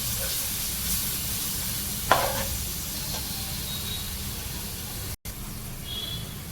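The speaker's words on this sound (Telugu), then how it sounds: "మంచిగా ఫ్రై చేసుకోవాలి పచ్చి వాసన పోయేవాకి ఫ్రై చేసుకుంటే చాలా బాగుంటుంది" Spices sizzling in a hot pan for fish curry, a steady loud frying hiss with a brief clatter of stirring partway through and a short dropout.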